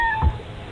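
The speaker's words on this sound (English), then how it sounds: "Cat!" A startled house cat at a front door gives a short, strained meow over faint background hiss, close and moderately loud, a single brief cry lasting well under a second.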